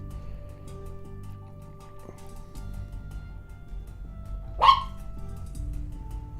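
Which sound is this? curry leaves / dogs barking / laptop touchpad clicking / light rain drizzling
dogs barking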